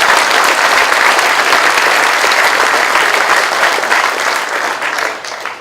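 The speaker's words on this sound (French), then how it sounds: "Je vous demande aussi une salve d'applaudissements pour nos jeunes conseillers municipaux qui s'intéressent à la vie communale." An audience at a mayor's New Year address applauds young municipal councillors, with dense sustained clapping that tapers slightly toward the end.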